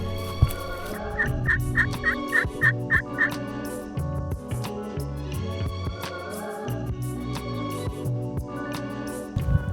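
A wild Gould's turkey gobbles in a rapid, rattling burst beside a pond, with more gobbling and busy layered sounds continuing in the background.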